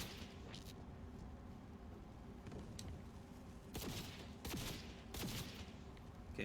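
Several distant turret gunfire bursts in Cyberpunk 2077 crackle over a dense, rumbling game background, with three stronger volleys clustered toward the end.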